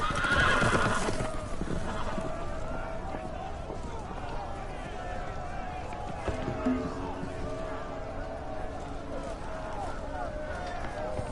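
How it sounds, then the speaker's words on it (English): Loose horses in a Game of Thrones video game whinny loudly and gallop with steady clip-clop hoofbeats, a sharp neigh opening the scene before running hooves and further calls continue under a busy background. "The horses! They're loose!"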